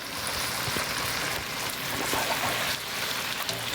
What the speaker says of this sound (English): So now I'll add water.